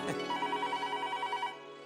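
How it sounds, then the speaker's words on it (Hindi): A telephone rings with a rapid repeating electronic trill for about a second and a half, close and clear, then stops. "ये फोन बजा।"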